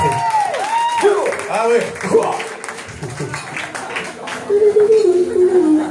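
An audience at a small live music venue claps for the drummer, the applause rising and falling in bursts while a presenter speaks over it.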